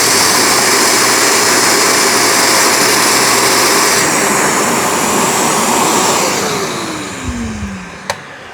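The suction motor of a Shark StainStriker HairPro PX251 portable carpet cleaner roars loudly and steadily up close, then winds down with a falling whine near the end.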